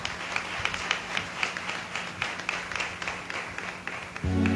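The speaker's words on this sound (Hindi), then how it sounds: "ताली बजा के प्रभु को धन्यवाद दें।" A church congregation claps their hands in thanks to the Lord, a steady rhythmic patter of many hands at moderate volume, ending with a brief swell of other sound.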